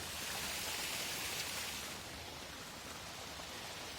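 Water gushes steadily from two running irrigation pump motors in a field, a dense, even rush that stays loud throughout and softens slightly midway, with no voices.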